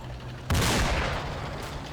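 Tiger tanks firing in the Combat Mission: Battle for Normandy war game, a sudden loud cannon blast after a quiet moment, followed by a long rumbling decay with a faint later report.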